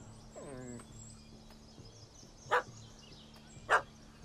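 A dog in The Witcher 3 barks at a cat that has fled up a tree: two sharp, separate barks a second apart, after an earlier wavering call, over a steady, low game-world hum.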